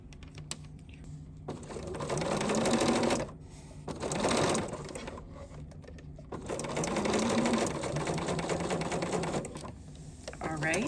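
A Bernina sewing machine fitted with a #38 piping foot stitches long basting stitches along piping, running in several sustained bursts separated by short pauses, close and clear, with a voice talking over it.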